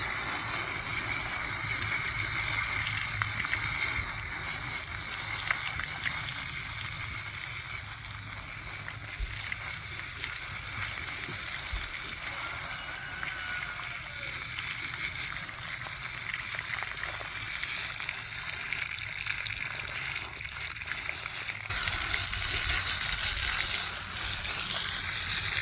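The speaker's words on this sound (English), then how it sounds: "we're going to go ahead and take this water hose, spray it down." A garden hose sprays water over the exposed roots of a lemon tree being repotted, making a continuous close hiss that holds steady for about twenty-five seconds.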